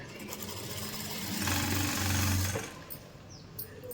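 A sewing machine stitches chudidar fabric in a close, rapid mechanical whir that swells louder for about a second mid-clip, then tapers to quieter handling noise.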